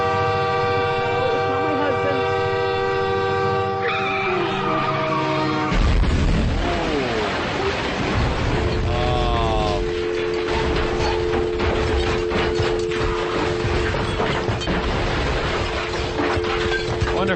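A train horn blares in long sustained tones before a loud crash effect breaks in, followed by chaotic noise and a lower steady horn tone, all loud and close.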